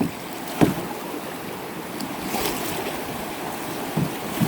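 A canoe moving on the Saluda River in Columbia, South Carolina, with continuous rushing water and wind noise, occasional splashing knocks of paddles or hull, close and fairly loud.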